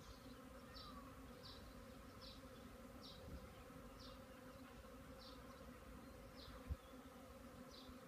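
Honey bees fly in a ball in front of their hive on orientation and cleansing flights, a continuous faint outdoor buzzing drone with individual bees passing close at regular intervals.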